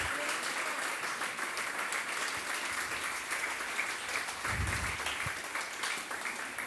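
A church congregation claps together in a dense, steady round of applause that fills the room for several seconds, with a few voices calling out underneath.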